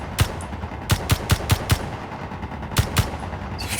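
Interior turrets in Space Engineers fire in short bursts of sharp, loud gunshots, a quick cluster of five or six then a pair after a pause, against a low ambient hum.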